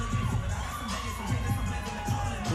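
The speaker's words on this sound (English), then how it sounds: "She's getting a lot of hype from the crowd" Crowd at a DAZN boxing event roaring and cheering for a female fighter, a dense, steady wall of voices with shouts and whistles rising above it throughout.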